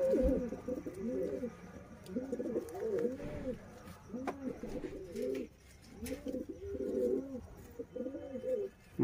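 Pigeons for sale, including Sialkoti breeds, coo in repeated rhythmic throaty phrases at moderate volume, several birds close by with a faint background hiss.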